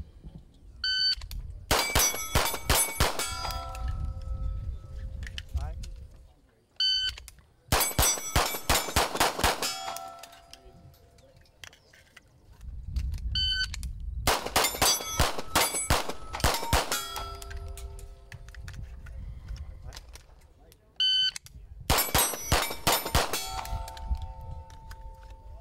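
Shooting competition gunfire rings steel plate targets, each burst a rapid string of sharp cracks followed by bright metallic dings, repeated in four distinct volleys with quieter pauses of ambient rumble between.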